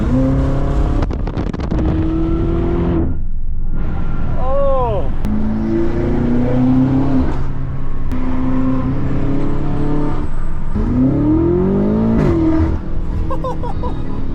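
A BMW X5M pulls hard during a ride-along, its engine note rising loudly through repeated upshifts, heard close from inside the cabin with a brief exclamation from a passenger.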